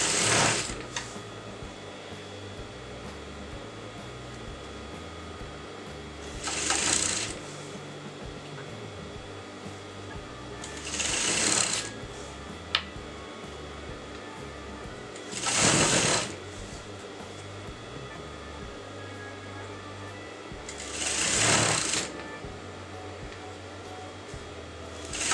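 Electric sewing machine stitching fabric along a kurta neckline, running in five short whirring bursts spaced several seconds apart, with quiet handling between runs and no talking.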